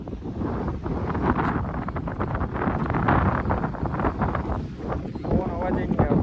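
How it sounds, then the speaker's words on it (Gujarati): Strong wind sweeps across open farm fields, roaring and buffeting the microphone in a loud, continuous rumble with surging gusts, while a voice is faintly present underneath. "જોઈ શકો કેટલો પવન છે"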